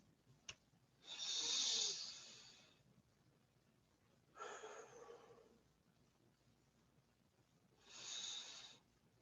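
A person breathing heavily near the microphone: three long, loud breaths, each a few seconds long with a raspy, airy quality, separated by quiet pauses and with no talk.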